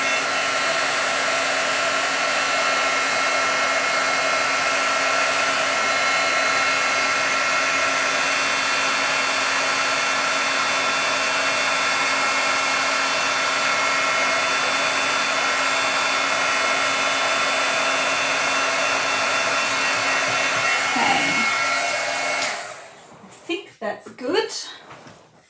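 A heat tool runs with a loud, steady blowing whine for over twenty seconds while heating embossed ink on a papercraft project, then switches off, leaving a few brief handling knocks; a person talks over the drone.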